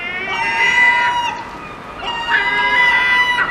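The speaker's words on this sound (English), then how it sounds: "And you hear the seagulls shouting." Gulls shouting in a town street on a foggy day, a run of loud, harsh, wailing calls in two bursts with a short lull between, close and clear over a soft outdoor background.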